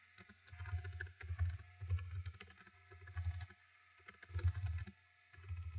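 Typing on a computer keyboard, with bursts of soft, close key clicks in irregular clusters separated by brief pauses, quiet and alone.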